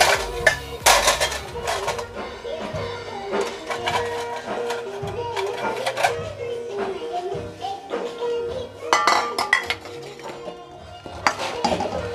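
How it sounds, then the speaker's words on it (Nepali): Chatpate, a spicy Nepali snack, is tipped and scooped into a bowl with repeated clinks and clatters of dishes and utensils, sharp close taps in irregular bursts with rustling in between. "अब म भाँडामा हालिदिन्छु"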